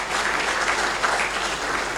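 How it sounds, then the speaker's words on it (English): Guests at the ICAZ centenary gala dinner break into loud, continuous applause, a dense unbroken wash of clapping from a large room lasting a couple of seconds. "Let's give them a round of applause."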